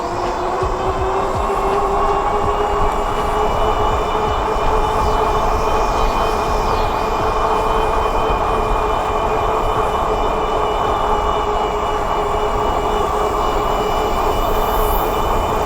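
A EUYBIKE C3 fat-tire full-suspension electric bike rides at top speed on pedal assist 5, a steady loud hum with rising motor whine tones and constant rushing wind noise throughout, no talking.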